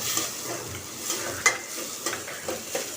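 Onion and tomato frying in a steel kadai give a steady close sizzle, marked by a few light scraping stirs and one brighter clink, with no one talking.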